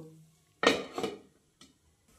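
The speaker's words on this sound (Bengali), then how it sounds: "এবার আবার আমি কিছুক্ষণের জন্য ঢাকনা দিয়ে দেব।" A metal lid is set onto a cooking pan while thin rice-flour chita ruti pitha cooks, making two quick clattering clanks close by, followed by a softer single tap and quiet.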